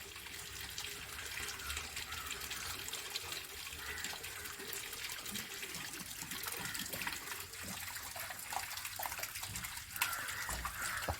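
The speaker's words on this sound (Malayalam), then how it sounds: "ഇപ്പോൾ നിങ്ങളെ വെള്ളത്തിൻ്റെ കളറാണ് വരുന്നത്" Water runs continuously from the tap of a water filter, a steady close gushing flow lasting throughout with only faint background sounds.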